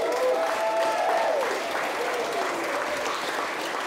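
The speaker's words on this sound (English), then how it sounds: "Can we give them a round of applause, please?" Wedding guests at a reception break into sustained applause, dense steady clapping from a crowd with a few voices faintly audible above it, holding level throughout.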